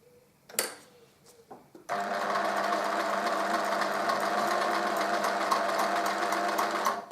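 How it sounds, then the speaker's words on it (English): After a few handling clicks, a sewing machine starts and runs a straight seam in fabric, a steady, close motor hum with a fast rhythmic stitching buzz, no talk. "we're going to start exactly the same way as the French seam with a normal straight seam"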